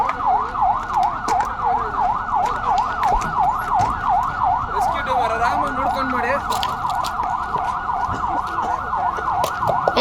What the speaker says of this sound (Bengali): এটা দমকলের গাড়ি ঢুকলো সদ্য